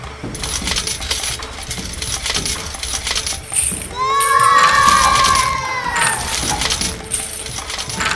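Coins mixed with candies clatter down through a LEGO coin machine, a steady run of small metallic clinks and rattles with a brighter ringing cascade midway, heard up close and without talk.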